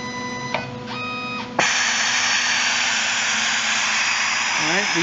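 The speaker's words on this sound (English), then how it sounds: "this is just a warm-up sequence to show the heaters heating" A Conceptronic Freedom 3000 BGA rework station warming up its heaters: a steady, loud broadband fan-like whoosh comes on abruptly and holds, with a few tonal beeps and hums just before it starts.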